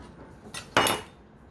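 An IKEA knife cuts into an OEM iRobot N99 vacuum filter, giving a short scrape followed by a louder, sharper crunching cut, close up and with no one talking.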